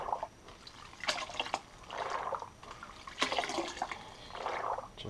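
Dirty water sloshing and pouring out of a rock tumbler barrel as it is shaken: repeated bursts of splashing and gurgling draining, close and moderately loud, with short pauses between pours.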